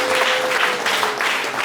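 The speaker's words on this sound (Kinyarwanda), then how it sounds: "Let's clap our hands." An audience claps together at a church worship gathering, a dense, steady wash of hand claps, fairly loud and close, with no voices over it.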